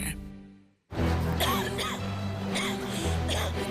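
Several harsh coughs repeat in quick succession, close and loud, after a short silence.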